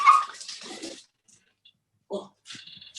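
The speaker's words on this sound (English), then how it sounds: "my dog is so troublesome" A pet dog indoors whimpers and yips in short high-pitched bursts, loud at first, then quieter cries after a pause of near silence.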